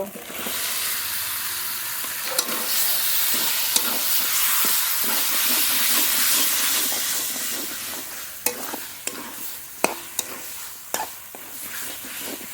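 Spice-marinated chicken sizzles loudly in oil over well-fried spices in a pan for chicken kosha, a steady broadband hiss broken by sharp clicks and scrapes of stirring, with no talking.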